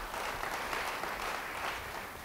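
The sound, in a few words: applause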